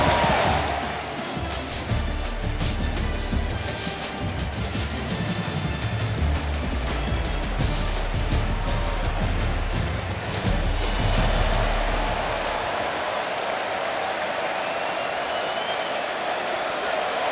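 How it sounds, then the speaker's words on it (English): A stadium crowd roars in an NCAA football game at Folsom Field in Boulder, a dense, sustained wash of cheering that fills the whole stretch and eases slightly toward the end. "This crowd bringing an ear-splitting welcome to their visitors."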